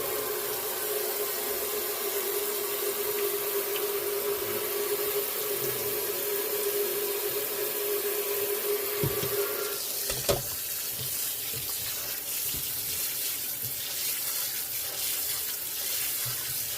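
Tap water pours steadily over potatoes in a colander, a close, continuous hiss and splash that shifts slightly as the stream moves, with a few faint clicks and knocks.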